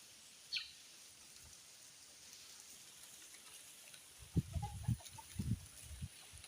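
Chickens clucking softly in a garden, a few low, short clucks near the end against faint outdoor background noise.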